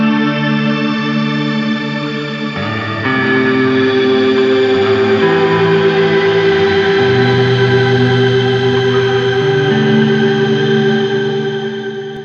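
A Matthews Effects Traveler reverb pedal with shimmer turned to maximum and feedback fully up, producing a loud, sustained wash of layered, octave-shifted tones that swells and blooms over held instrument notes, with no talking.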